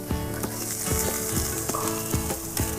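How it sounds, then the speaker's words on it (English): Loud, close sizzling of onions frying in a hot cast iron skillet, a continuous crackle with occasional scraping stirs and clinks. "we're gonna lean in so we can hear this sizzle."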